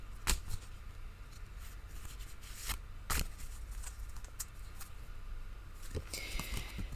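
Tarot cards being shuffled by hand, with soft riffles and sharp snapping bursts at irregular intervals over a quiet background.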